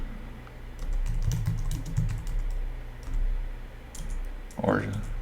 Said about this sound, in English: I'm typing this over a big microphone.